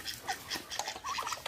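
Ducks on a farm quack in a quick, faint cluster of nasal calls, a few overlapping squawks heard from a short distance.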